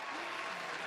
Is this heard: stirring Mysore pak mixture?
no